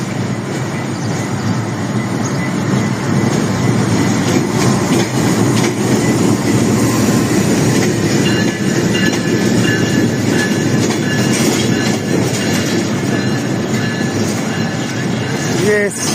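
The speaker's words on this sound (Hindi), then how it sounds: "हमारी ट्रेन आ रही है जी। 7:17 पर पहुंच रही है रावलपिंडी के प्लेटफार्म नंबर 3 पर।" A Pakistan Railways passenger train rolls into platform 3 at Rawalpindi, a continuous loud rumble of wheels with rhythmic clickety-clack and occasional squeals, close by throughout.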